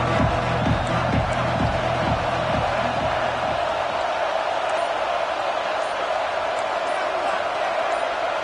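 A college football stadium crowd roars loudly and continuously, with rhythmic clapping or stomping early on, and a commentator speaks over the noise.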